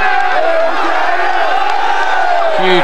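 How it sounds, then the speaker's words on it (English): A huge roadside crowd at the Liège-Bastogne-Liège cycling race on the Roche au Faucon climb roars and cheers loudly and continuously, with whoops and shouts rising over a dense wall of voices. "Huge crowd."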